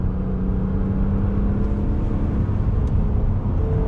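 A 2021 Toyota Highlander XSE AWD V6 pulls hard under throttle, its steady engine drone and road noise filling the cabin with a constant, fairly loud hum.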